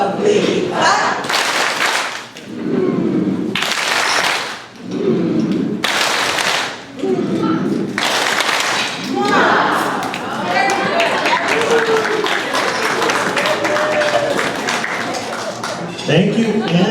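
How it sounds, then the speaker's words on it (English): Guests at a benefit dinner clap together in four short rhythmic bursts separated by brief pauses, followed by a stretch of someone talking over the room. "Together, a lovely clap."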